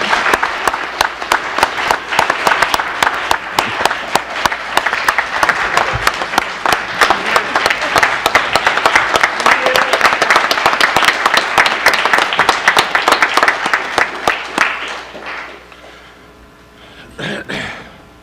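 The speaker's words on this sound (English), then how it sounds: "So again, give them just a great round of applause because they're two of the best." A packed room at a county Board of Supervisors meeting bursts into sustained, vigorous applause that holds strong for about fifteen seconds before tapering off into scattered last claps and quiet.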